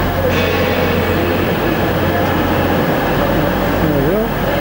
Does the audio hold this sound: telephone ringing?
no